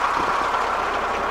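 A T-40 tractor engine runs steadily and fairly loud, a continuous idling drone with no breaks across the short stretch.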